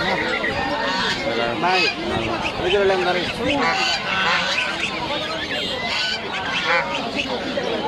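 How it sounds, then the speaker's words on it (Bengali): Geese honk repeatedly in a dense, overlapping flock at a village market in Dupchanchia, Sultanganj haat, loud and close, with people talking among them. "দেখেন এইগুলো হচ্ছে রাজহাঁস।"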